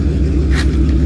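Loud car with a new muffler passing close by, a rumbling roar with a brief swell in the middle of a short burst of steady engine noise.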